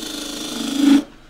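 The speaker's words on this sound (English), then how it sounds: "I've used the wing of the tool as a peeling cut." A half-inch spindle gouge making a peeling cut on wood spinning on a lathe, a steady close rasping hum that swells briefly and then cuts off abruptly.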